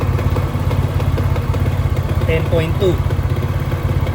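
A Rusi 110 motorcycle engine idling with a fullwave stator charging fault, a steady close chugging rumble throughout with a person talking over it.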